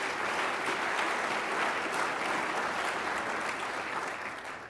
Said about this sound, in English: let's give them a round of applause anyway